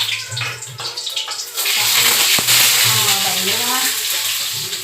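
Sliced onions drop into hot oil in a home kitchen for a chicken curry, bursting into a loud, steady sizzle that stays close and continuous after a quieter opening, with a voice speaking over it.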